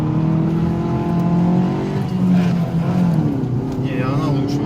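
A chipped Tagaz Vega C100 car accelerating hard, its engine note rising and shifting in a sustained loud drone heard from inside, with people talking over it.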